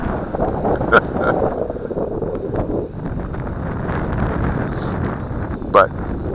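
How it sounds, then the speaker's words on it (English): Wind buffets the microphone in a continuous low rumble and roar outdoors during a Cheerson CX-20 drone flight, with brief sharper gusts and clicks. A voice talks underneath. "We got lots of wind here"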